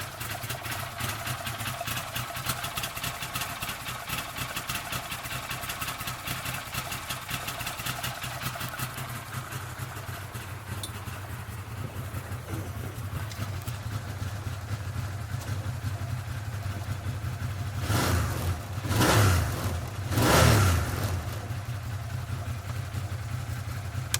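A 2013 Arctic Cat Wildcat X side-by-side with a lumpy cammed engine idles steadily and close, with two brief revs swelling near the end, no voices over it.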